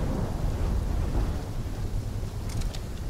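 A thunderstorm in Call of Duty: Black Ops 3, a steady heavy rumble of wind and rain with low thunder rolling underneath, dense and continuous, with a few faint higher crackles near the end.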